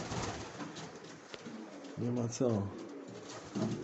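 Pigeons, including Berlin breeds, coo in low, rolling bursts near the microphone, a couple of calls in succession, while someone says a few words quietly.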